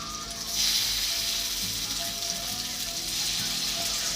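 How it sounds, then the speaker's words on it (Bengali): Broccoli kababs set onto a hot oiled tawa start a loud, bright sizzle that jumps up within the first second and then holds as an even hiss, with no voices. "এবার আমি এক এক করে কাবাবগুলো তাওয়ার মধ্যে দিয়ে দেব।"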